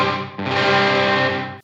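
An electric guitar chord rings out through a NUX Trident pedal's digital tape delay, a loud sustained distorted tone that decays smoothly with a brief re-strike near the start.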